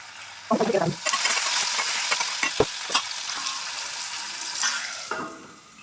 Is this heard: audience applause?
no